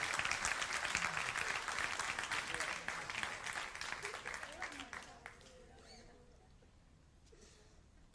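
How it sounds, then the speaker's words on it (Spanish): Church congregation applauding in a broad dense patter that fades after about five seconds, leaving a quieter room with faint voices and a soft tonal murmur. "Vamos a darle un aplauso a los muchachos."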